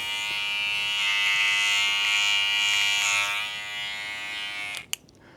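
An electric trimmer works on ear hair, a close, steady high buzz lasting several seconds that dips slightly as it moves against the ear, then cuts off with a click.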